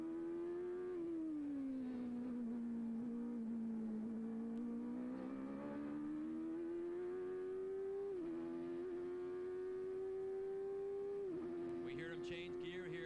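A 1991 CART race car at Portland is heard from onboard as the driver dabs the power on and off, the engine's loud, continuous drone rising and dipping in pitch through the lap.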